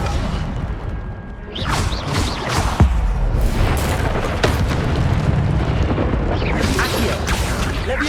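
In Hogwarts Legacy, the Incendio fire spell is cast amid combat: dense, roaring bursts and booming whooshes of flame, loud and continuous, with layered impact crashes and magical effects throughout.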